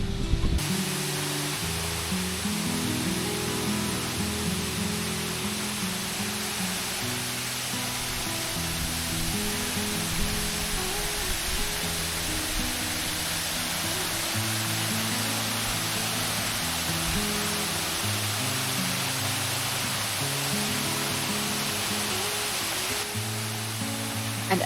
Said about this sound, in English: Let me just walk you up to the waterfall so you can see what it looks like up close.